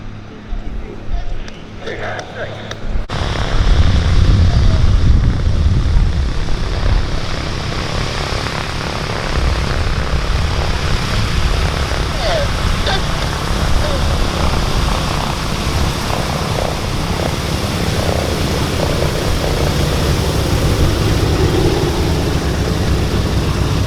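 The Sally B B-17 bomber roars past at the Duxford summer air show, its piston propeller engines loud and sustained after a sudden rise in volume, with a commentator speaking over the PA.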